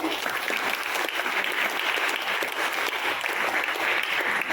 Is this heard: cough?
no